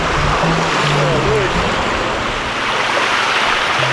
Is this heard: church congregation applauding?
no